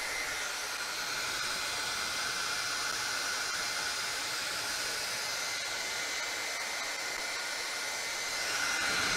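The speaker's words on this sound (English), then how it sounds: "I'm going to blow dry this one last time" A hair dryer blows steadily for about nine seconds to dry paint on a vinyl stencil, a loud constant broadband whoosh and hiss close by with no talk over it.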